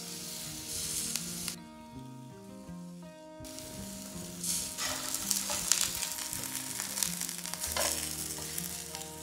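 Vegetables for Vietnamese pho browning in a pan, a continuous sizzle with scattered crackles and spatters that drops out briefly, then returns and builds louder, no talking.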